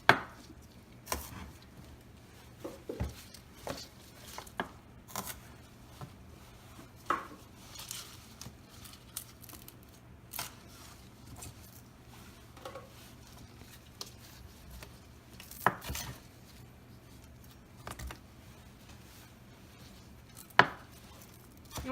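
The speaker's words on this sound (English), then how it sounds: "You're also going to want to chop the roots and the tops off" A knife chops the roots and tops off vegetables for egg drop soup, giving faint, irregular taps on a cutting board with quiet pauses between strokes.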